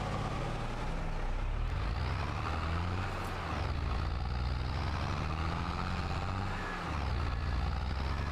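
A tractor hauling a grain trailer in Farming Simulator 22 rumbles with a steady low diesel engine drone, close and continuous, swelling and dipping slightly over several seconds with no talking.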